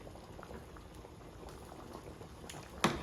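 Pork neck bones boiling in a home cooking pot, a steady close bubbling simmer throughout with small pops and one sharper splash near the end.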